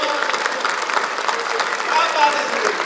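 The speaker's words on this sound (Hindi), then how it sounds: "ए भाई एक बार जब खुल के तालियां बजाइए।" Audience applause at a Hindi comedy and satirical poetry show, a soft, even patter of many hands with a voice talking over it.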